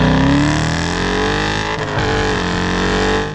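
A 2015 Dodge Challenger R/T Scat Pack with a naturally aspirated engine rumbles loud and close, its deep exhaust note rising in pitch and then settling into a sustained, throaty drone.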